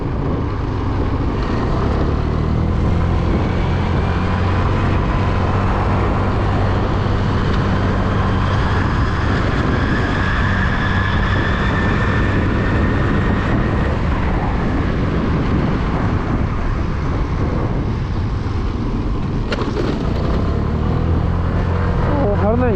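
A Suzuki Address V125 scooter engine drones steadily while riding on a road, its pitch slowly rising as it gathers speed, close and loud with heavy wind rush throughout.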